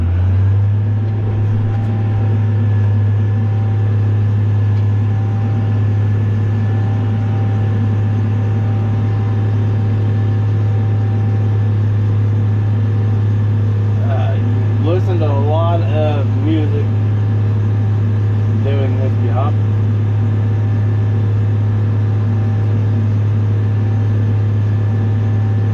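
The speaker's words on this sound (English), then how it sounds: "Drive back and forth on a pile and push the silage up." Heavy farm vehicle drives back and forth on a corn silage pile, a loud steady engine drone and rumble throughout, with a brief mechanical whine partway through.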